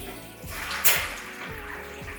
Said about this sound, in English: It literally sucked up all the water through the in and it started to fill up the canister.